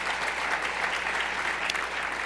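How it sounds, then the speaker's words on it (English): Audience applause, a steady wash of many hands clapping at moderate level, brief and uninterrupted. "Don't clap, because I only got 3 minutes."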